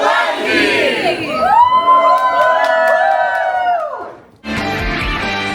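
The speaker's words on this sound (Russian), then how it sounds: "Пожалуйста, аплодисменты!" An audience roars with loud cheering, whoops and sustained shouts that swell and hold for several seconds, then cut off abruptly before a burst of noise.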